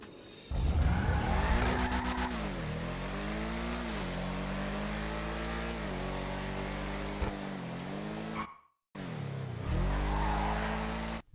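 A Sentinel GTS sports car in GTA Online drives hard, its engine revving up and down through gear shifts with rising and falling tones, tires squealing at times, loud and continuous apart from a brief cut near the end.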